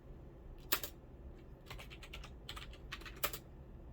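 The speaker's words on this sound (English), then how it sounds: "So we're going to type in sudo apt install" Computer keyboard keys tapped in short irregular bursts while a command is entered on a Linux terminal, close and fairly quiet against a faint room background.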